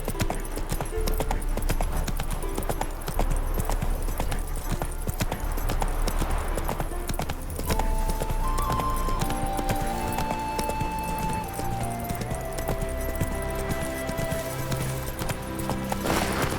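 Hooves of the horse Roach in The Witcher 3 clop steadily and continuously, mixed with a dense bed of game music and ambience, and a faint voice is heard at times.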